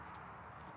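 A saddle horse walks along, its hooves making a faint, steady clip-clop at a relaxed pace.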